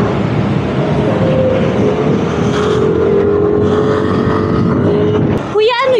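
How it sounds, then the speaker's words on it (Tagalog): Busy street traffic heard from inside a moving vehicle, a constant engine and road drone with a passing motor's tone sliding across, voices talking briefly near the end. "Traffic yata rito."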